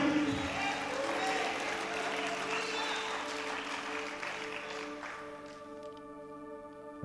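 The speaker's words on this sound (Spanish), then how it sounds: "Den un aplauso al Señor Jesucristo." Congregation applause during a church sermon, sustained clapping mixed with crowd noise and what sounds like organ or keyboard tones, tapering off near the end.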